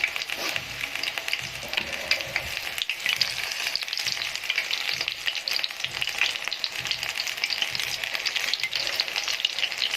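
Battered cauliflower fries in hot oil, a steady dense crackling hiss that stays close and even throughout with no voices.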